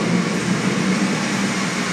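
A train crowded with people pulls away from a station, producing a continuous, loud, even rumble and rolling roar with no distinct breaks.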